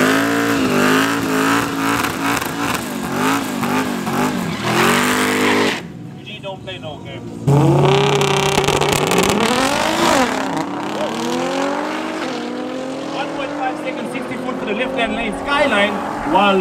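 Drag racing cars on practice runs at Midvaal Raceway, loud engines revving and roaring past with rising and falling pitch, a brief drop in between, then another car screaming off the line close by.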